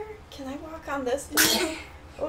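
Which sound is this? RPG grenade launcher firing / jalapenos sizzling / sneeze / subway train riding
sneeze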